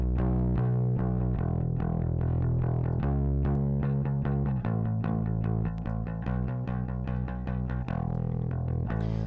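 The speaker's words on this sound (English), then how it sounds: "now we're going to listen to the actual signal with the distortion" A heavily distorted, buzzy music mix through the Vertigo Sound VSM-4 distortion plugin plays continuously and loud, with gritty saturated tones over a steady beat and sustained notes.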